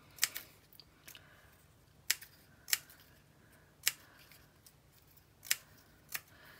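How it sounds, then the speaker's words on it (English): Scissors cut through paper in half while a scrapbook page is assembled: about eight crisp, close snips spaced irregularly over a quiet background. "my scissors and very carefully cut through it in half"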